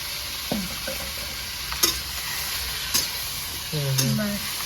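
Cauliflower frying in mustard oil, a constant loud sizzle with a few sharp clacks of a spatula stirring against the pan and brief scraping squeaks, heard up close with no voices.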